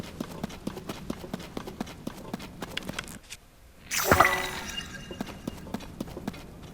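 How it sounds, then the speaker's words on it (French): Ghost horses gallop in Zelda: Tears of the Kingdom with a steady, evenly spaced clip-clop of hooves. A sudden bright crashing burst cuts in midway, then the rhythmic hoofbeats carry on. "il y a des chevaux fantômes ici aussi"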